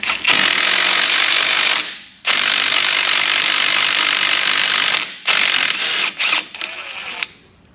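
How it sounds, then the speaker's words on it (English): Ratchet wrench clicking rapidly in long bursts while removing the tie rod and axle nut on a collision-damaged 2018 Jeep Wrangler, loud and close, with short pauses between runs of clicks and no talking. "let's go ahead and get the tie rod and the axle nut removed"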